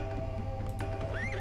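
A horse in the strategy game Native Americans 3: The Red Coats gives a brief whinny near the end, over a steady game backdrop with a few soft hoof clops.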